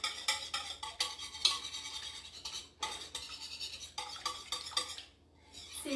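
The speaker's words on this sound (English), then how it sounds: "So I'm going to whisk this together." Whisk rattling quickly against a small glass prep bowl while mixing an oil mixture, a close, bright scraping clatter in rapid bursts with a brief pause near the end.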